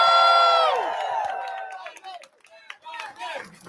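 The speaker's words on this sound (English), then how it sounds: "Let's give her a round of applause." A campaign rally crowd in Las Vegas cheers and claps for Evelyn Yang, loud voices and whoops at first, then thinning into scattered shouts and claps under a rising chant.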